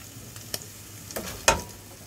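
Beef and mushrooms sauté in a pan with a soft, steady sizzle, broken by a few brief scraping stirs close by.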